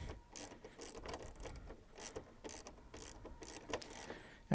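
A ratchet works a screw loose on a Chevrolet Sonic headlight, giving a quiet, fairly steady run of clicking pawl strokes close by, with no talk.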